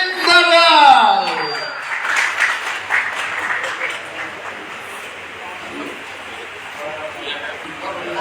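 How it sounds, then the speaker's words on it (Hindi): An audience at a business meeting applauds to welcome a speaker; a voice rings out first, then scattered, fading clapping and crowd murmur continue beneath. "एक बार उठ के जोरदार तालियों के साथ स्वागत कीजिए"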